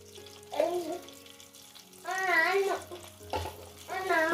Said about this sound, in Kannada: ಇದನ್ನು 1-2 ನಿಮಿಷ ಅದರಲ್ಲಿ ಫ್ರೈ ಆಗಬೇಕು ಎಣ್ಣೆಯಲ್ಲಿ.